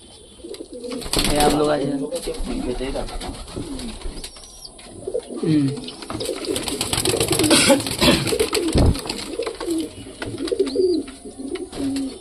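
Domestic pigeons in a pigeon loft coo repeatedly at close range, low throaty calls rolling on throughout while someone talks over them.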